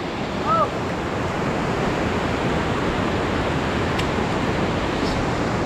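Rushing floodwater from a big river swollen after a typhoon roars as a loud, continuous broadband wash, close and steady, with a brief faint voice early on.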